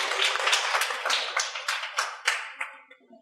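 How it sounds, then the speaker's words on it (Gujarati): A room at a Lions Club Ahmedabad West gathering claps in welcome for a past president, with fairly close, rhythmic bursts of hand-clapping that gradually thin out and fade toward the end. "આપણે જોરદાર તાળીઓથી વધાવીએ છીએ."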